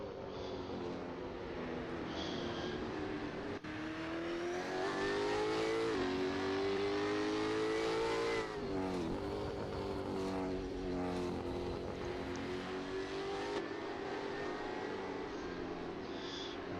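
V8 Supercar racing cars from the Brad Jones Racing team lap a road course in a championship round, engines droning loud and steady with rising and falling pitch as they shift and battle closely, continuous throughout.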